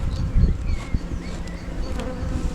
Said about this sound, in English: There's bees on that frame,